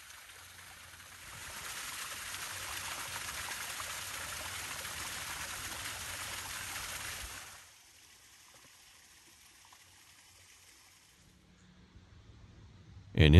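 Water running over a limestone creek bed near a trail, a steady broadband rush lasting several seconds before dropping to near silence.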